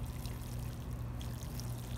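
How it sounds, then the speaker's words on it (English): Water pours steadily onto soil in a container before basil and cilantro seedlings are transplanted, a soft, continuous trickling stream heard close and alone. "you want to water before you transplant"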